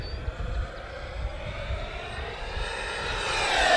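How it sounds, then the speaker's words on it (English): FMS F-16C 70mm electric ducted fan model jet diving at full throttle, its fan whine rising steadily in pitch and loudness as it closes in, continuous and alone over light wind rumble. "Abby, full throttle dive."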